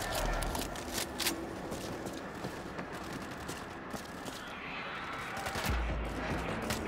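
Dense, continuous gunfire from a World War Z: Aftermath zombie-shooter match, rapid bursts layered into a steady loud barrage with no talk.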